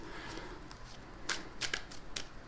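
Crisp bursts of tarot cards riffling and snapping, several quick shuffles in a row, fairly close with no talking.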